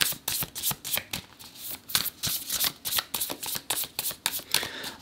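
Tarot cards being shuffled and picked up close by, quick papery riffles and slaps in a busy irregular rhythm with no talking.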